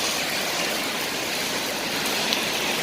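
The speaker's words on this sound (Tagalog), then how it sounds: "natuloy na po ang ulan" Heavy rain pouring onto a flooded street in the UAE, a dense, even hiss of water close by, steady and loud for the whole few seconds.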